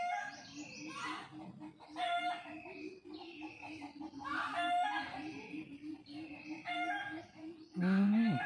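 Chickens cluck and a rooster crows in a home garden in the morning, with repeated calls over a steady low clucking rhythm, small birds chirping in the background and a louder squawk near the end.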